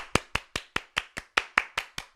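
Hand clapping from a small group at a show recording: about ten sharp, evenly spaced claps in quick succession, close and clear with no talk over them.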